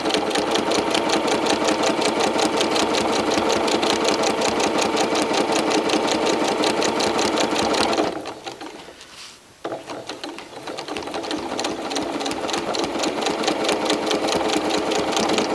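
Sewing machine doing free motion quilting, stitching at a steady fast rhythm, loud and close, briefly stopping midway before running again at a slightly lower level.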